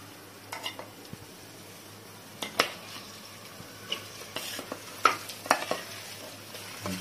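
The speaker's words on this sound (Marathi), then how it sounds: "तर आपण आता मटण जे आहे ते फोडणीला घालून घेऊया" Mutton pieces stir-fried in hot spiced oil tempering with onions for Maharashtrian vade mutton, giving a steady soft sizzle broken by scattered spatula scrapes and clinks against the pan, with no talking.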